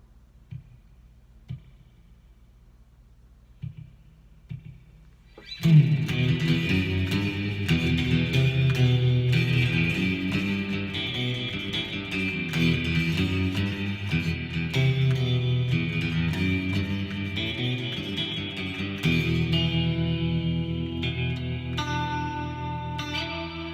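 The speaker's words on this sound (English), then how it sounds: "let's turn the sync off and make it a good slap back" Electric guitar played through a Headrush effects unit with a short slapback delay and sync turned off, sustained chords and notes ringing with quick echoes, loud and close, starting after a few seconds of faint ticking.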